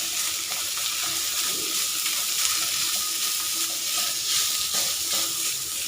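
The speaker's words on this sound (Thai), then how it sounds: "ผัดไปเรื่อยๆให้หอม" Red curry paste sizzles and fries in oil in a pan for Thai red curry with coconut milk, bamboo shoots and pork neck, a dense continuous crackle with occasional stirring scrapes and no talk.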